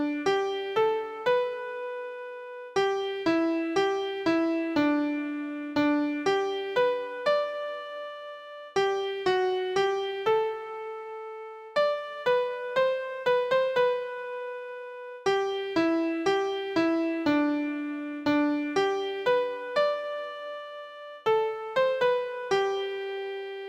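The melody of the ballad The Dying Rebel, played as clear, plucked or struck single notes in measured phrases separated by short pauses, bright and solo, with no singing.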